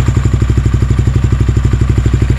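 A Yamaha Sniper 155 motorcycle idles close by just after an air filter replacement, its engine thumping in an even, rapid rhythm with a steady mechanical clatter and no talk.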